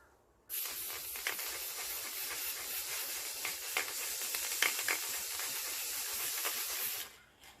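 A can of gold spray paint sprays onto a glitter tumbler, a steady close hiss that begins abruptly, runs unbroken for several seconds with slight pulsing, then cuts off, with no talking.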